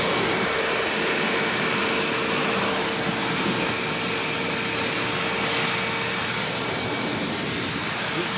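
A Hoover Windtunnel Anniversary self-propelled upright vacuum, restored and fitted with a Maytag motor, runs at full suction with a loud, steady roaring whoosh and a faint whine, unbroken and close.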